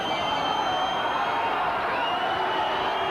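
Rugby league stadium crowd at Widnes versus Halifax, a steady, loud wash of massed voices and murmur that holds evenly throughout without any sharp cheer.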